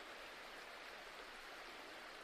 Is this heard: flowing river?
yes